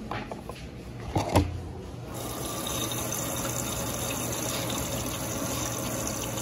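An Electrolux Silent Control Jet & Clean 16.5 kg washing machine fills with water, a steady close rushing flow that starts after a couple of brief clunks and keeps going evenly.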